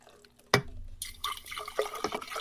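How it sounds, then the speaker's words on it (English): Raspberry flavored seltzer water is poured into a glass, a sharp first splash followed by a steady fizzing, gurgling pour, close and fairly quiet. "Let's pour. So tonight I'm having a wonderful raspberry flavored drink."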